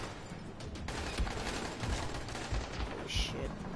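Gunfire from the Dying Light video game, quiet rapid bursts of shots crackling over a noisy background, with a few sharper reports standing out.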